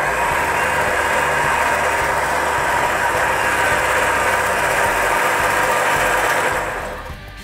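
An electric winch motor on a Ridge Ryder winch winding cable onto its drum, a loud steady whirring drone with a mechanical hum, close and unbroken, tapering off as it stops at the end.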